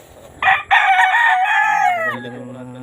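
A loud, close fighting rooster crow rings out alone, a long strained cock-a-doodle-doo that trails off into quiet.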